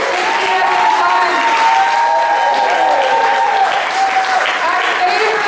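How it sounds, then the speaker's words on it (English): A crowd at a roast event gives a loud, sustained round of applause for a county council candidate coming on stage, with cheering and some voices mixed into the clapping throughout. "Let's give a big round of applause for the candidate for District 5 County Council."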